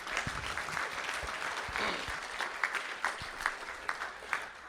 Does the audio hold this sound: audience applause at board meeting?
yes